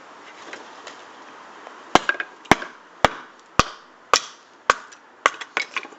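Slightly green wood is split with a TOPS B.O.B knife: about eight sharp, close chopping strikes land at a steady pace, some followed by quick cracking taps, with no talking.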